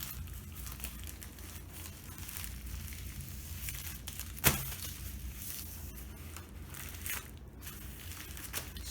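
A paper mailer being folded around a book for shipping gives faint crinkling and rustling, with one sharp crackle partway through and a few softer crumples later, no talking.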